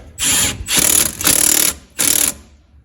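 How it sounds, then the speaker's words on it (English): Impact wrench with a 16mm socket tightening a strut nut on a BMW F30 335xi xDrive during a Bilstein B8 strut and H&R spring install: four loud, close bursts of rattling hammering, each roughly half a second, separated by short pauses. "Take your 16mm on an impact, set it on the nut,"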